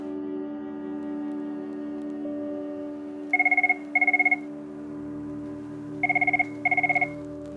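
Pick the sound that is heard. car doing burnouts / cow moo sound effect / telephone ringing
telephone ringing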